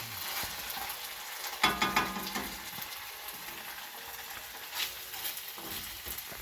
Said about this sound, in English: that popping grease was worrying me a little bit